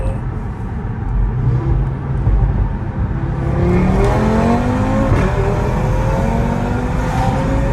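Audi RS3 8V2 with a stage 1 remap and decat accelerating hard, its engine loud and close from inside the cabin, revs climbing through several gear changes as it pulls.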